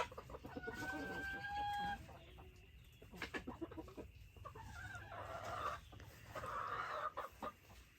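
Chickens cluck in a new coop, with close, repeated hen calls and squawks, a few knocks and rustles, and a drawn-out whistling call near the start.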